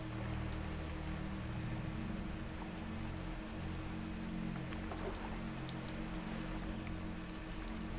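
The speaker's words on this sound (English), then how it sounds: "One moment you are still aware of rain at the window and the soft vibration beneath the bed." Rain patters steadily against the cabin window of an overnight ferry bound for Norway, a dense, even hiss of drops over a constant low engine drone.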